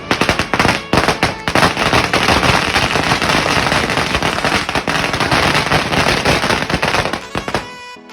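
A string of firecrackers, lit with a matchbox during a family welcome celebration, bursts in a rapid, loud, continuous crackling barrage for about seven seconds before stopping abruptly.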